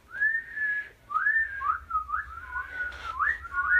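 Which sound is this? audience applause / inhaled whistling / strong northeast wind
inhaled whistling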